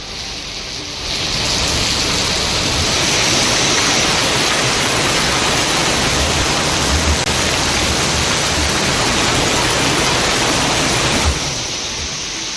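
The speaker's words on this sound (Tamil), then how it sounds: "தொடர்ந்து மழை பெய்து வருவதால் குடியிருப்புகளை வெள்ளம் சூழ்ந்துள்ள நிலையில்" Heavy rain pours steadily in Tamil Nadu, a loud, dense, unbroken hiss of downpour that holds constant for the whole stretch with no voices.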